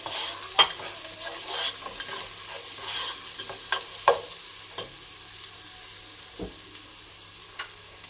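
Chopped garlic and onion stir-fry in a pan for fried rice, a steady sizzle broken by sharp scrapes and clinks of the spatula, close and moderately loud with no talking.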